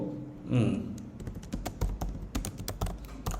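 Computer keyboard typing while writing a job proposal: rapid, irregular close key clicks follow a brief voice at the start.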